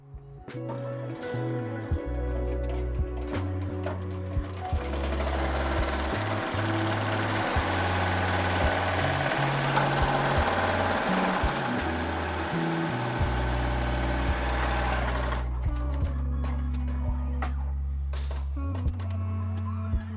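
An embroidery machine stitches across a thick seam on a hoodie, a steady mechanical chatter with rhythmic tonal pulsing, close and continuous, briefly stopping and restarting near the end.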